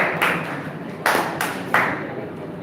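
Several sharp claps ring out, spaced about a second apart, sounding like a group clapping in unison in a room.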